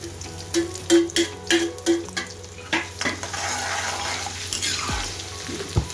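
Garlic and ginger frying in hot ghee in a home kitchen pan, with a series of stirring scrapes early on, then a steady soft sizzle that continues on its own.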